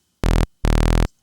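Arturia Minimoog emulation with oscillator one set to the low 32-foot range. Two short, loud, deep bass notes, the second held a bit longer, sound close and clean with no talk.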